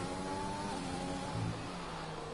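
A Formula 1 car engine in the racing game F1 2020 roars at full throttle, a close, sustained, buzzing note that steps through the gears and holds loud and steady throughout.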